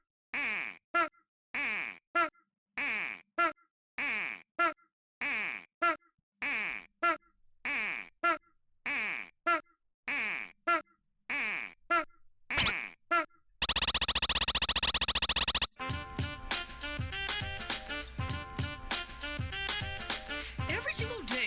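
A cartoonish angry chicken squawk from a video game fires off about fourteen times in a steady, even rhythm, each burst short and sharp, before a flat hiss of static and then busy music take over.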